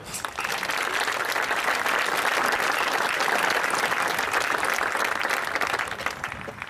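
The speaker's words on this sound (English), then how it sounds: "Let's give him a round of applause too" A graduation audience breaks into loud, sustained applause, a dense wash of clapping that holds steady for several seconds with no talking.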